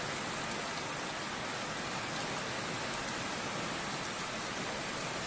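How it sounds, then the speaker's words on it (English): Dense, constant rain hiss fills the scene without a break, an even wash of falling drops with no voices. "My goodness, this rain."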